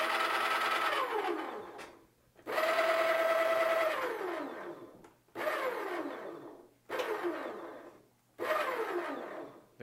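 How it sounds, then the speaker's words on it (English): A repaired conical burr coffee grinder motor starts up four times, each a loud whirring run of one to two seconds with a falling whine as it spins down, separated by short silences. "The grinder starts every time that I ask it to, as it should."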